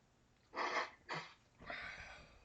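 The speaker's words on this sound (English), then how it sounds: "I got blow my nose." Person with a runny nose after eating very hot peppers blowing it into a tissue, three short breathy honks close to the microphone, the last one longer and trailing off.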